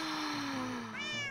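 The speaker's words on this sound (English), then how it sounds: "you're a beautiful black and white cat" A Minecraft cat, black and white, gives a clear, fairly loud meow that slides downward, followed by a brief higher rising mew near the end, heard alone without talk.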